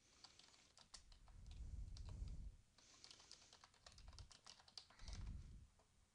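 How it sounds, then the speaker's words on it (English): Typing on a computer keyboard while filling in fields of an insurance certificate form: bursts of quick key clicks in uneven clusters with short pauses between, close and moderately loud, no voices. "I'm going to type in some different things with these different green fields for this certificate holder."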